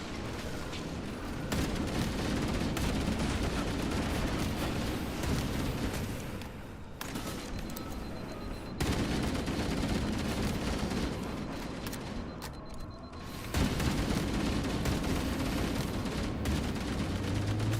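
Rapid gunfire in Halo: Campaign Evolved, dense sustained bursts of shots with short pauses between volleys, loud and close throughout.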